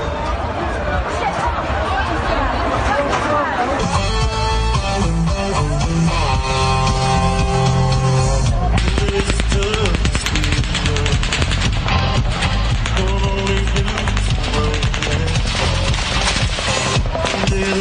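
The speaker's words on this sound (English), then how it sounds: "You can hear the gunfire, and that certainly, there's no doubt that is an automatic weapon and a high-powered automatic weapon." Recorded bursts of rapid automatic gunfire from a high-powered automatic weapon, loud and continuous, heard as a rough rattling mix with crowd chatter and a talking voice over it.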